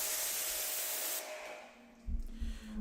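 Water sprays steadily as a rinse over car paint coated with Meguiar's M888 Beyond Ceramic Paint Coating, a broad loud hiss that cuts off partway, followed by lower thumping, rumbling handling noises close by.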